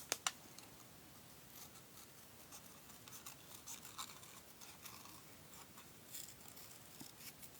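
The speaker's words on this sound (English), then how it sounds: "I'm just going to fussy cut these super fast because actually I'll probably cut them out faster by hand than using the die cut" Scissors cut papercraft pieces by hand in a quiet, close setting. Soft, irregular snips and paper rustles repeat throughout, with a few sharper clicks at the start.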